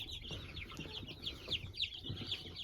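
Day-old chicks in a brooder peep and cheep continuously, with several high, rapid calls layered over soft rustling and low background noise, fairly close and steady throughout.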